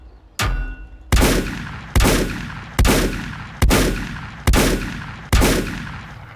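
Seven evenly spaced, punchy gunshots ring out in the survival game Volcanoids as modules are shot, each a sharp crack with a short decaying tail.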